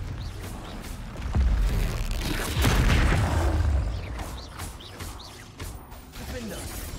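Confringo fire spell in the video game Hogwarts Legacy: a loud, sustained burst of explosive, crackling combat noise that builds and fades over several seconds, with game effects and a voice mixed in.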